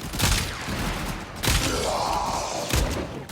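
The Boar Incarnon shotgun fires three punchy blasts about a second apart in the sci-fi shooter Warframe, each shot close and loud over a steady din of game action.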